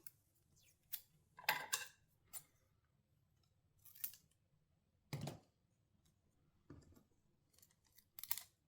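Scissors snipping Kapton tape into pieces during a mod chip install, a series of sharp, quiet, close cuts spaced irregularly over several seconds, no speech.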